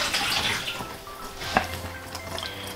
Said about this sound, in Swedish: Häller ut överflödigt vatten.